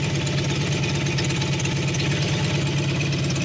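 A 1988 Honda VF750c Super Magna motorcycle engine idles steadily through a custom exhaust, giving a deep, even, close-up rumble with a constant throb and no break for the whole stretch.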